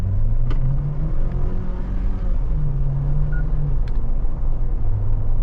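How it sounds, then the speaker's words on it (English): A GWM Tank 300 engine drones steadily at close range with a low rumbling note that rises and dips briefly as the transmission shifts gears under hard acceleration. "You hear that slight bump in RPM."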